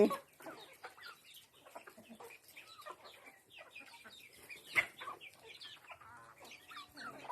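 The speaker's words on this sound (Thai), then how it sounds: "ไก่เล็กไก่น้อย" Small chickens and chicks cluck and cheep on and off at a home, fairly faint and close, with soft rustling in the background and no one talking.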